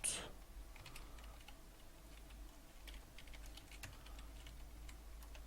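Rapid, light clicks of keys on a computer keyboard as game code is entered, faint and uneven over a low steady hum.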